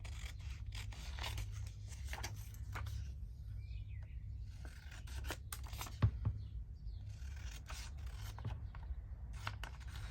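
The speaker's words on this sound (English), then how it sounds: "So I'm just going to cut them out. So I cut around the actual shape." Scissors snip around printed floral shapes cut from a book page for paper ephemera, a steady series of close, soft cutting and rustling strokes with one sharper snip partway through, no talking.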